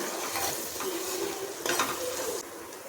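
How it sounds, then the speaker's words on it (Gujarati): Steady stirring and sizzling in a hot pan, a spatula scraping through ginger-garlic paste with a few louder scrapes, close and continuous. "બધું આપણે સારી રીતે મિક્સ કરી લઈશું"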